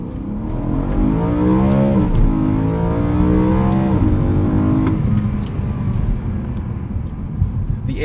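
A tuned 2010 BMW E92 M3 engine accelerates hard, its rising rev tone sweeping upward repeatedly through gear changes, loud and close from inside the cabin with no talking.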